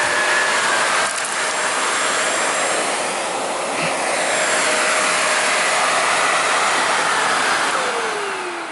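A Sebo Felix 9809AM upright pet lift-away vacuum cleaner runs steadily with a loud, continuous whooshing motor hum that holds nearly constant throughout, with no talking.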